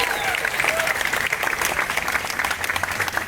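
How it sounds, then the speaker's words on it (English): An audience at an evening celebration of marriage equality in Vermont bursts into sustained applause, dense clapping with a few cheers rolling on steadily and loud throughout. "let's give them a big round of applause"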